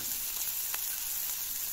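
Sliced bitter gourd fries quietly in a pan as a soft, faint sizzle, with a couple of brief crackles from stirring, and no one speaking.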